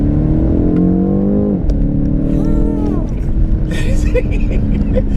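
A BMW M850i accelerating hard on a straight road, the engine note rising loud and close, dropping at a gear change and climbing again in steady pulls.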